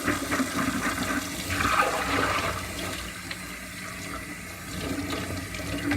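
Tap water runs steadily into and over a Dyson Animal DC28 vacuum's clear bin as it is rinsed out, a continuous close splashing rush that swells and eases slightly over several seconds, with no talking.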